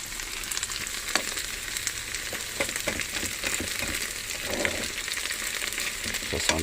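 Potato galette mixture with curry frying in a pan inside a camping car, a steady close sizzle and crackle running throughout with faint scraping of a spoon, no voices.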